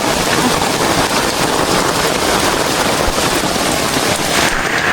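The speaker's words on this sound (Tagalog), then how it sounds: "Grabe, laka ng ulan." Heavy rain pours down in a dense, loud, continuous hiss, steady throughout with no voices.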